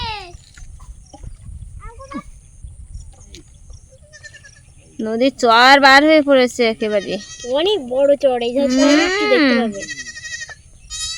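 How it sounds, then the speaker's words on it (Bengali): Goats grazing on a sandy riverbank char bleat in a run of loud, wavering cries near the middle, after quieter stretches with people talking nearby. "আর এখানে এই দুটো তোমাদের ছাগল"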